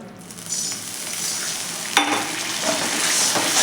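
Jaggery with a spoonful of water stirred in a hot pan for sesame-jaggery laddoos gives a continuous close sizzle with scraping stir sounds and a light clink of a utensil partway through.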